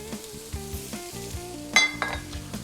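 Sliced rings of red and white onion sauté in a pan with a gentle, close sizzle, with occasional stirring bumps and a bright clink of a utensil against the pan partway through.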